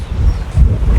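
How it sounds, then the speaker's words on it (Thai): Wind gusting outdoors at a vegetable garden, a steady low rumble buffeting the microphone and swelling partway through, with no voices. "ลม"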